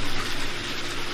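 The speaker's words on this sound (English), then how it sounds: "it's really cool to see the water flowing in here" Water flows through a constructed pond river at a Salvadorii facility, a steady, close gushing wash with no talking.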